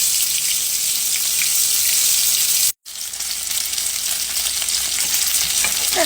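Food frying in a pan, cooked about four minutes per side, gives a loud, continuous crackling sizzle that fills the whole stretch, broken only by a momentary cut, with no voices.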